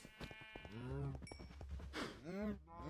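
Cows mooing on an animal farm in Minecraft, a few drawn-out lowing calls at close range over a low background hum, with no talk.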